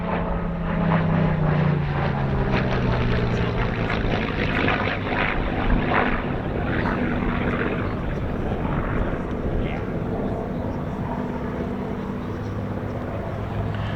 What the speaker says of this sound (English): as you saw when Mark Todd taxied by